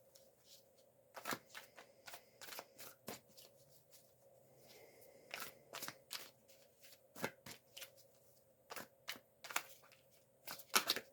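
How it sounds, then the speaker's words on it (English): Tarot cards being shuffled by hand, close and quiet, in repeated quick riffling bursts separated by short pauses, with no talking over them. "I'm going to be quiet for a few seconds while I shuffle."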